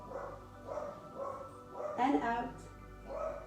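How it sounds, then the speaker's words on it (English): Dogs barking in a home during a yoga session, a series of rhythmic moderately distant barks, some yippy, under a soft voice speaking. "There are my dogs barking."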